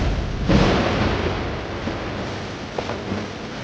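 A deep, rumbling boom swells and rolls on like distant thunder, with broad noisy energy and a few faint crackles near the end.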